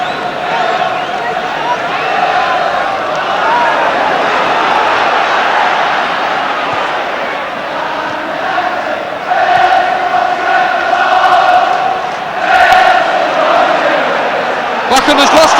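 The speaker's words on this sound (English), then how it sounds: "The crowd now willing to cheer at every move." A 1973 English First Division football crowd at Manchester United versus Wolves roars and cheers continuously in the background, swelling in bursts, under steady commentary.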